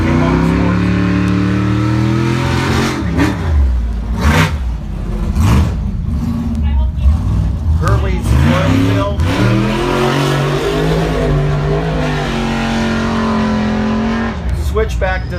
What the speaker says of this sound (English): It's a race car.